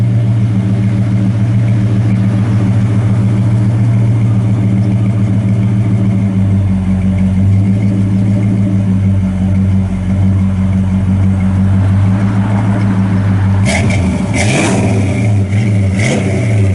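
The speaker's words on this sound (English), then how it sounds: "Sounds real good, nice dual exhaust." A 1966 Ford Fairlane with a Tremec transmission idles with a loud, deep burble through dual exhaust, then blips the throttle in a few sharp revs near the end, up close and with no talking.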